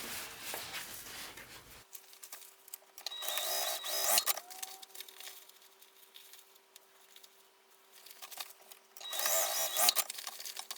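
A sewing machine stitches the bottom seam of a mini tote bag in two short bursts of rapid mechanical whirring, separated by a quiet pause with a low steady hum.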